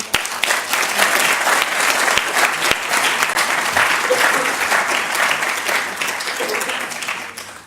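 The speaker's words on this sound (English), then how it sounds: "please give her a big, great applause." Loud, sustained audience applause welcoming a speaker at a business presentation, thick continuous clapping from a large crowd that holds steady and then tapers slightly at the end.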